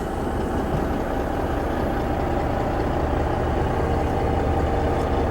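A 2007 Volvo 880 truck with an 18-speed Eaton Fuller Ultrashift idles before pulling away, a steady, loud, low diesel rumble running unbroken and close with no talk over it.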